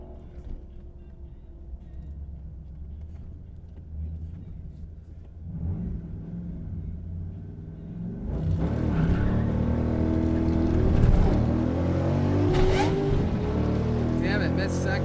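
A Ford Ranger with a swapped 351 Windsor V8 on street tires rumbles, then accelerates hard on a drag pass from about eight seconds, engine roaring loud and near with rising pitch through the gears.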